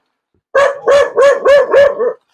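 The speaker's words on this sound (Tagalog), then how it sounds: "sinasalubong na tayo nung aso" A dog barks five times in quick succession, loud and close, with short gaps between each bark.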